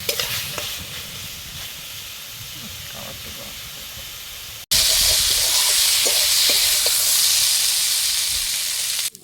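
Mung dal with salt and green chilli sizzles and hisses steadily in a pan while being sautéed, with a louder burst of frying partway through and faint stirring scrapes.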